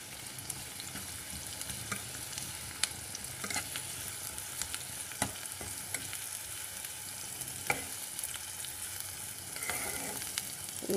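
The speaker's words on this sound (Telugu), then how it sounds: "నేను పచ్చిమిరపకాయలు వేస్తున్నాను" Whole green chillies frying in hot oil in a pan for a prawn and okra curry, a steady close sizzle with occasional sharp pops and crackles running throughout, no voices.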